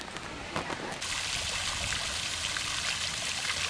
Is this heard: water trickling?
yes